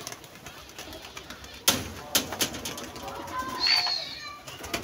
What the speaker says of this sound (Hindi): कबूतर उड़ा दिए हैं ये देखें ज़रा